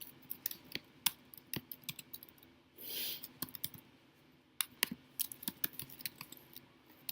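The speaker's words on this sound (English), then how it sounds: "I'm just going to go ahead and type those in to save time." Keys on a computer keyboard clatter in quick irregular bursts of close clicks, with a brief soft whoosh partway through before the typing resumes.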